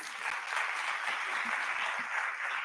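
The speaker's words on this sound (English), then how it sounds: "Another round of applause for the awardees." Audience applause for awardees at a conference, steady and evenly sustained clapping from a sizeable crowd, moderately loud and free of speech.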